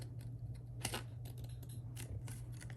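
Scissors trim the edges of a glued craft piece in several quick, close snips scattered over a quiet background.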